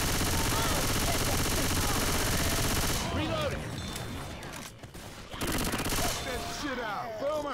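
Sustained rapid gunfire from a weapon in the video game Left 4 Dead 2, dense and loud for the first three seconds, then broken bursts resuming after a brief pause, with players talking over it.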